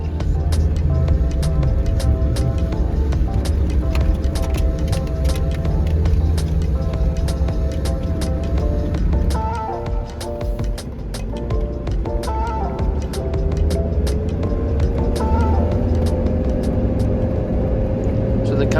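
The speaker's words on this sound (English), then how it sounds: "As you can probably hear in the background, the viscous fan was just going and going and going." A Land Rover Discovery 2 or Defender 90 climbing a very steep hill in Portugal, its viscous fan roaring continuously with a steady engine drone and rumble throughout, dipping briefly midway before resuming.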